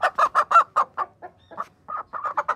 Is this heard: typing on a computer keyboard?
no